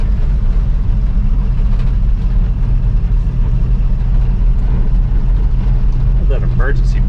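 1958 Chevy Apache truck running and driving on its own power after 20 years, a steady, loud low engine drone throughout with brief talk near the end.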